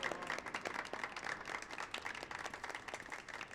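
Brief burst of crowd clapping from a Final Fantasy XIV Heavensward cutscene, a fairly faint, even patter of many hands with no voices over it.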